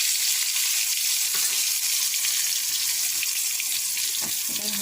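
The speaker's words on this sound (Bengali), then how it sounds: "একটু তেলটা বেশি করেই দিয়েছি" Eggplant frying in a generous amount of hot oil in a wok, giving a steady, close, continuous sizzle and crackle throughout with no voices.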